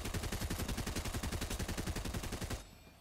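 Rapid gunfire in a shooter video game: a fast, evenly paced burst of loud, close shots for about two and a half seconds, then a sudden stop into quiet.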